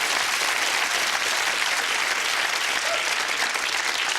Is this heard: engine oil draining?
no